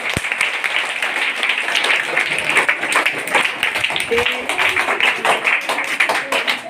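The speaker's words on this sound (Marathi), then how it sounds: "एकदा सगळ्यांनी सगळ्यांसाठी टाळ्या वाजवल्या पाहिजे." Students at a school gathering applaud together, a dense, loud burst of clapping that stays steady for several seconds with a few voices mixed in.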